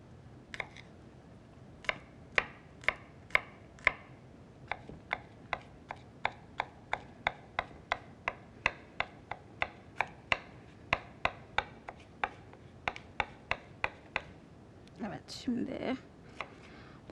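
A knife chops garlic steadily on a board, around thirty sharp regular taps in quick succession, close and distinct, with brief rustling near the end.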